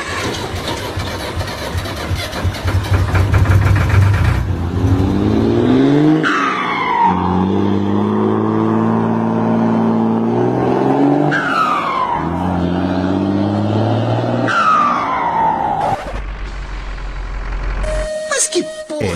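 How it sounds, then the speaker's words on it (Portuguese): A heavily tuned truck engine in the driving game The Road Driver, revving loudly in rising and falling pulls with gear-shift sweeps, close and dominant, with brief skid-like noise and a voice underneath at times. "Que eu chamo de ronco de motor."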